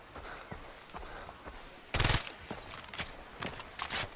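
A rapid burst of automatic gunfire rings out, followed by scattered single shots and clicks, sharp and game-like over a steady background, in the video game Far Cry 3.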